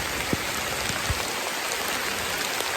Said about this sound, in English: I'm sitting here in the rain.